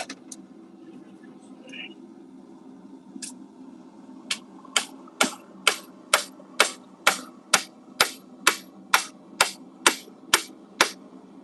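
A blacksmith's hammer rings on a cold anvil at a forge, about a dozen sharp, evenly spaced metallic strikes building to a steady rhythm, loud and close over a low background hum.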